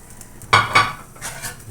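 Chunks of jackfruit dropped into a boiling pot of mung bean stew, giving two distinct splashy, clattering thumps followed by softer stirring and bubbling noise.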